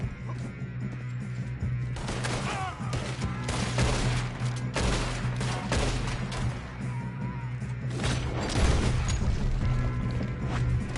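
Bursts of gunfire and crashing impacts in a PS4 action game, loud and dense over a constant low engine-like drone, with clustered volleys and occasional metallic clanks.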